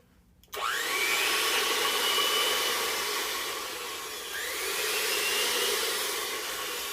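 A restaurant bar mixer motor switches on and runs unloaded, not connected to anything, starting abruptly into a loud steady whirring hum with whining tones that dip and rise again, close up and with no talking.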